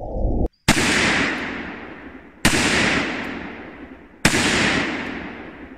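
Three sharp, loud rifle shots from a Pietta Chronos in .308 Win, each a cracking blast followed by a long rolling outdoor echo, spaced roughly two seconds apart.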